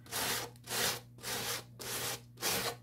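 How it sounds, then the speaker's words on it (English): Fine sandpaper is rubbed over a collage in about five distinct back-and-forth strokes, each a rough, papery swish separated by brief silences, close up with no voices. "Now I come in with, as I said, a piece of fine sandpaper."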